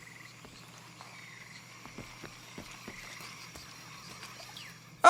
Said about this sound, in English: Oh, is that a frog?